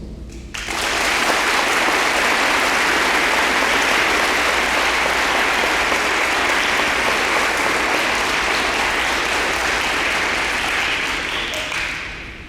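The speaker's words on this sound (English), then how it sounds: "Let's give them and their families a big round of applause." An audience at a high school Marine Corps JROTC awards ceremony gives a long, loud round of applause for senior cadets and their families. The dense clapping holds steady for about twelve seconds, then eases slightly at the end.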